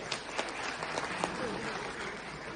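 A crowd at a political rally applauds steadily, dense clapping filling the whole moment with a few sharper claps standing out.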